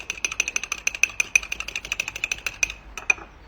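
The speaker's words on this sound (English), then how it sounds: "Gonna whisk it all through." A fork whisks lemon juice and oil in a bowl, producing a quick, steady run of bright metallic clicks that slows and stops near the end, heard alone with no talk.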